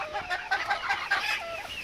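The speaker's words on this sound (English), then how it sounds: "There's a little blue rooster." A small blue true bantam rooster and other chickens cluck in quick, busy bursts close by, overlapping calls filling the yard with no talking.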